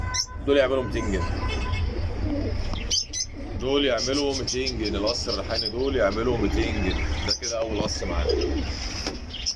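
Pigeons coo close by in a bird market among pigeon and songbird stock, repeated soft throaty coos with scattered chirps from other birds, under continuous male speech throughout.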